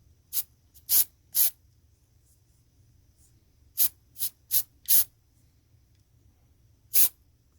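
Short hissing bursts of matte varnish from an aerosol can sprayed onto a painted miniature, about eight quick puffs in irregular groups, close and crisp with quiet gaps between them.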